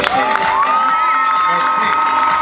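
Cheering crowd of children and adults at a dolphin show on Kish Island, a loud sustained wave of shouts and whoops with a rising voice cutting through, close and continuous.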